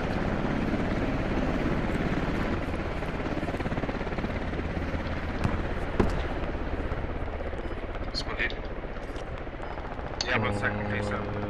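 A hostile helicopter flies in the military shooter game Squad, with a continuous loud rotor roar under scattered gunfire and distant blasts. A voice comes in near the end.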